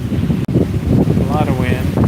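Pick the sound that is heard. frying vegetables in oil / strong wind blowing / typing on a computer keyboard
strong wind blowing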